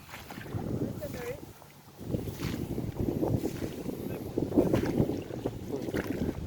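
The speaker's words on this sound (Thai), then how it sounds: "ลมเย็นสบายครับวันนี้" Wind sweeping over open rice fields during harvest, a continuous rumbling buffet against the microphone with a low steady drone beneath, while someone speaks over it.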